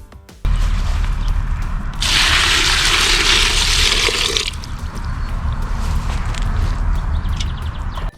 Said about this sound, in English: pour water into the bucket